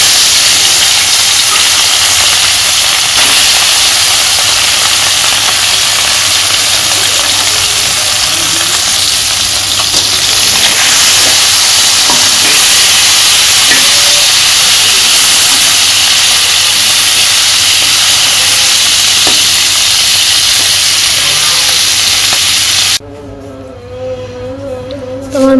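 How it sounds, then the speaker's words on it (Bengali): Fish frying in hot oil in a kadai over a village cooking fire, a loud, steady sizzle and hiss throughout, close up, with a faint rhythmic engine-like hum beneath and a quieter pause near the end. "তোমার তেলটা গরম হয়ে গেছে, মাছগুলা দিয়ে দেই"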